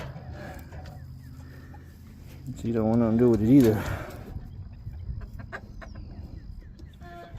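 Farm chickens give a short burst of wavering clucks and squawks lasting about a second, fairly close, while a person talks before and after in a quiet outdoor setting.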